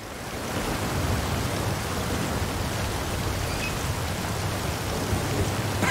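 A heavy thunderstorm in Forza Horizon 5 brings a continuous loud downpour with a deep rumbling low end, holding steady throughout with no voices.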